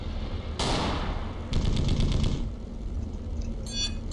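Car-mounted rifle fire in the vehicular combat game Darkwind War on Wheels: two short bursts of rapid gunshots, the second a longer rattling volley, over a low engine drone, with a faint clatter near the end.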